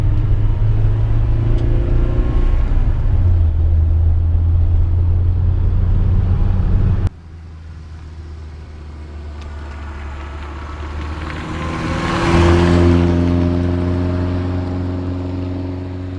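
A 1971 BMW 2002 engine rumbles steadily from inside the cabin, then the sound shifts as it accelerates and revs higher before easing off.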